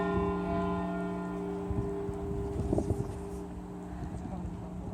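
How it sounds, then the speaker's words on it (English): Church bells ring out over the old town of Nördlingen, sustained tolling tones hanging steadily through the whole stretch with faint wind and street clatter in the background. "There's the ringing of the bells."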